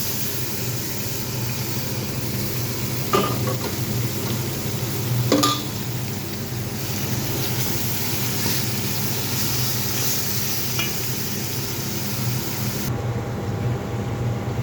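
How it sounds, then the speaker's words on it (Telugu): Onions fry in a biryani pot as chicken, marinated for an hour, goes in and is stirred. A steady low sizzle runs throughout, with a couple of faint utensil scrapes partway through. "ఇంకా ఈ ఉల్లిపాయలు మగ్గుకొని ఒక గంట నానబెట్టిన చికెన్ వేసేస్తున్నాను ఇందులో"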